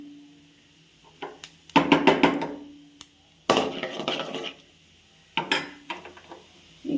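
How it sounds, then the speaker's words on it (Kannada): Mustard seeds and cumin go into a hot cooking pan, bringing clattering metal-on-metal clinks from a spoon and vessel, with short bursts of scraping and crackle separated by quiet gaps. "ಸಾಸಿವೆ ಮತ್ತು ಜೀರಿಗೆ ಹಾಕ್ಕೊತಾ ಇದ್ದೀನಿ."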